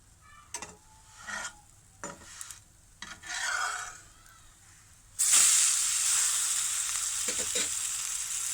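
Egg-dipped bread toast goes into a pan over a low flame and starts sizzling, steady frying hiss following a few scraping and stirring sounds, close and continuous.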